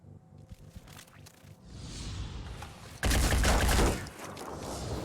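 Gunfire in the tactical game Phoenix Point: scattered soft thumps early on, then a loud, dense burst of fire lasting about a second, followed by a lingering rumbling background.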